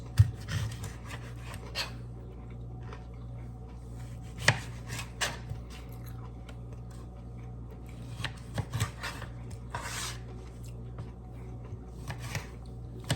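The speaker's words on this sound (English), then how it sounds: "And I might dice up some of these broccoli smaller or take the stems off." A knife chops broccoli on a cutting board for a fresh corn salad, with irregular close taps and thuds scattered over a low steady background hum.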